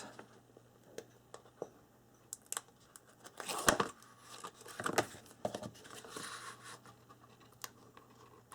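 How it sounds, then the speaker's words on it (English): Adhesive backing is peeled off paper for a calendar book album, giving close crinkling rips and tearing crackles in a few bursts between quieter rustles, loudest around the middle. "Let's peel the backing off."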